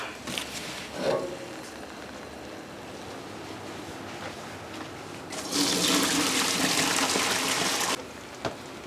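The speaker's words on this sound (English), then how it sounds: "let me go ahead and drain these" Cooked egg noodles are drained at a kitchen sink, with water splashing and pouring close by, ending in a louder rushing gush that stops abruptly.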